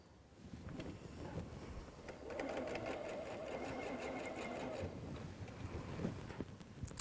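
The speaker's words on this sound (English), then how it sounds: "I'm ready for you to sew those together" A sewing machine stitches quilt seams for a butterfly throw quilt, a quiet, steady rapid whir running for several seconds with small speed changes, heard alone without talk.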